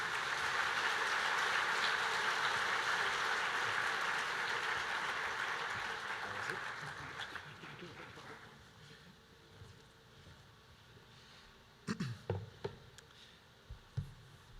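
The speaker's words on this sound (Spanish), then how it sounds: "Recíbelo con un fuerte aplauso, por favor." A church audience welcomes a pastor with loud, dense applause that fades gradually over several seconds, followed by quiet with a few scattered thumps near the end.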